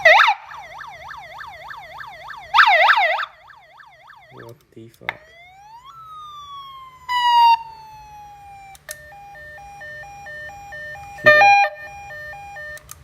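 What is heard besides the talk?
vehicle siren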